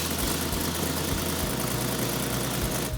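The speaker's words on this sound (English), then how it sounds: "When we got the fuse in it and I hit the key, it was just like the first time it started right up." A car engine idles steadily after starting, a loud, close, even rumble with a throbbing low pulse and no voices.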